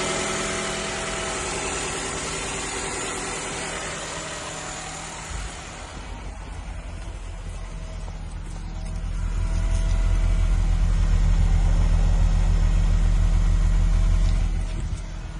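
A 2010 Nissan Qashqai engine idles steadily while warming up on a cold day, its low rumble growing heavier and deeper partway through, with no talking.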